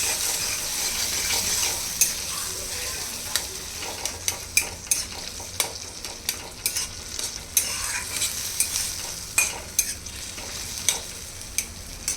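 Crushed ridge gourd hits hot oil in a pan for a Khandeshi bharit, a continuous sizzle under repeated scraping stirs of a spoon, close and fairly loud, no talking.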